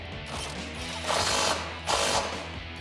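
Socket wrench with a 16mm socket tightening bolts on rock rails fitted to a Jeep Gladiator JT, giving a steady mechanical clicking ratchet with two louder, close bursts, no voices.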